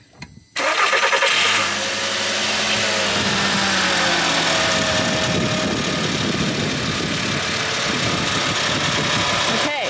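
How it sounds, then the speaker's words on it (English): After a brief quiet moment, a car engine boosted by an OXILAM jump starter cranks and fires, then settles into a loud, steady idle close by. A voice is heard around the start. "Go ahead and start the car."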